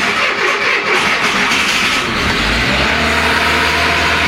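Renault C1J engine, a salvage-yard unit, cranking and catching, then settling into a loud, rough low idle rumble close to the microphone, with no talk.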